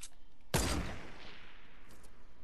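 A single loud shotgun blast in a multiplayer shooter video game, a sharp boom with a decaying tail, heard alone without talking.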